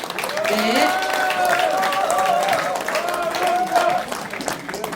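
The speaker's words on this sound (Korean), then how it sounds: "큰 박수 부탁드립니다" Applause at a political town-hall event in Suncheon, a crowd clapping steadily while a voice talks over it, with a brief swell near the end.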